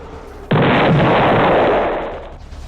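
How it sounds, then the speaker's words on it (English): Gunfire in Metroid Prime 2: Echoes on the Wii, a sudden loud blast of weapon fire that cuts in sharply and roars for over a second before fading into a low rumble. "Stop shooting me."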